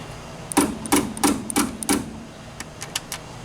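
Hammer strikes driving a threaded insert into the torn soft-top windshield channel of a Jeep Wrangler YJ: five sharp, evenly spaced metallic taps close up, followed by a few lighter, quicker taps.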